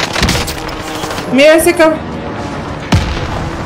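Call of Duty: Warzone gunfire, with a burst of shots near the start and a sharp single crack near the end, heard under a person's talk.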